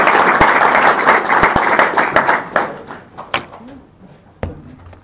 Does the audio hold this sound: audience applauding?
yes